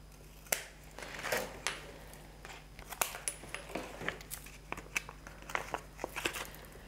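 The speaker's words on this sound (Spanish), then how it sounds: "voy a coger unas tijeras y os enseño cómo relleno el mío" Scissors snip open plastic refill packaging close up. Crisp clicks and crinkles come in an uneven series, with no talk over them.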